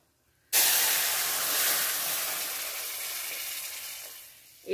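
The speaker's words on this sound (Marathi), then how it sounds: "पाणी उकळून घ्या" Water for rava mango sheera hisses and seethes in a hot pan, starting abruptly at full strength, then fading slowly into a steady steamy rush.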